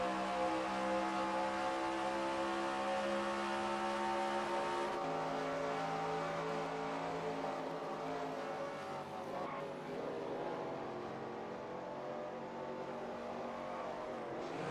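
Race cars roar around an oval in the NASCAR Racing 2003 video game, a continuous loud layered engine drone with shifting pitch as cars spin and pass, no talk over it.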